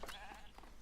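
Sheep in the video game Foundation give a faint bleat with a wavering, nasal tone, one short call trailing off over quiet background ambience.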